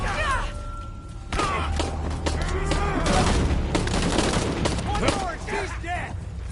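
Gunfire from a battle in the video game Shadow of the Tomb Raider crackles in dense bursts of shots and thuds throughout, loud and close, while voices shout over the combat.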